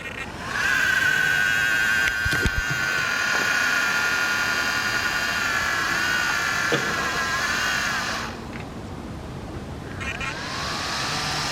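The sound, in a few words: Traxxas RC car motor fan making a noise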